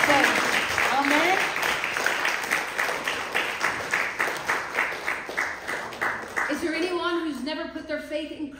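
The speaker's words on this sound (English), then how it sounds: "Give the Lord a clap." A church congregation claps in a steady, rhythmic beat for the Lord, loud and close, with voices calling out over the clapping toward the end.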